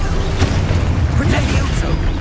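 Spell explosions from Confringo and Expulso in the Hogwarts Legacy video game, a series of booming bursts and pops that crack out over busy game noise while a player shouts throughout.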